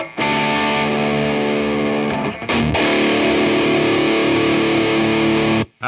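A heavily distorted electric guitar, an Ibanez S470 with a DiMarzio FRED pickup through a Crate Blue Voodoo combo amp, rings out with sustained, buzzing chords, briefly choked mid-way before another long ringing chord.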